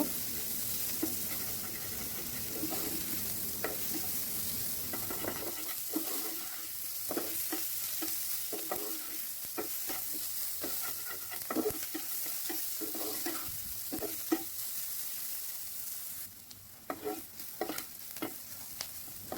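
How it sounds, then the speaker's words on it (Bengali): Onions sizzle and crackle in hot oil, with repeated scraping stirs and clinks of a utensil against the pan, steady and close. "আমার পেঁয়াজগুলো ভালোভাবে ভাজা হয়ে গেছে।"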